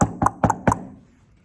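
Three sharp knocks on a door, evenly spaced and close, each a loud hard rap with a short ring-out, followed by a quiet fade.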